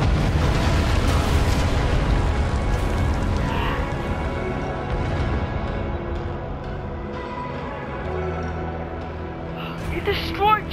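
A large explosion destroying Champion City in the Minecraft Story Mode video game: a loud, sustained rumbling blast that slowly decays under a layer of game music, with a sharp crackle near the end.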